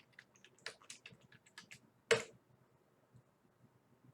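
Soft, close computer keyboard keystrokes as a password is typed, a quick irregular run of light clicks with one louder key press near the middle, then sparse taps fading out.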